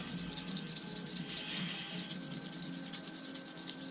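Steady, continuous hand sanding of a worn model, working through fine sandpaper grits from 1800 to 2400, a soft broadband rubbing hiss that holds level and close throughout with no talking.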